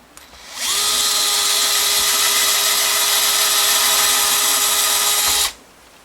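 A power drill drives a screw into a Telecaster pickguard on an electric guitar, one steady whirring run of about five seconds, close and loud, with no talking.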